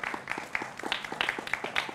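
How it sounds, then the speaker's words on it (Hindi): A TV debate studio audience claps to welcome panelists, a thin, steady patter of scattered hand claps that carries on evenly for about two seconds. "जोरदार तालियों से अभिनंदन है।"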